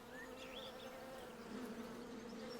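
Bees from a small, growing garden hive buzz steadily in a soft, continuous drone, faint and somewhat distant, with a few higher whines from individual insects passing, no talk.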